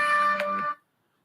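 A short electronic ring as a radio call-in show goes to the phone lines, one bright tone lasting under a second and then stopping cleanly into silence.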